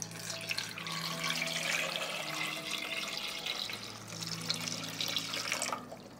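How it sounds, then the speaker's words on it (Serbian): Water runs steadily from a tap into a cooking pot holding room-temperature eggs, a continuous splashing pour lasting several seconds with no talking. "Zatim ću sipati vodu u šerpu da prekrije jaja."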